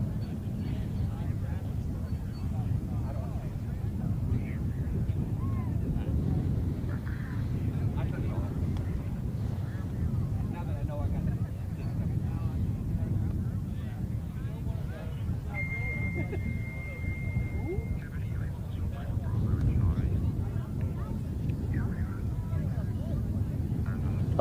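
A radio-controlled competition aircraft takes off into the wind at a design/build/fly contest, its motor a steady low drone under heavy wind buffeting and a commentator's voice.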